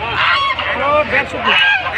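A crowd of ducks at a duck market in Mahadevpur, Naogaon, Bangladesh, quacking loudly and close by, calls overlapping in a continuous noisy chorus with no pauses.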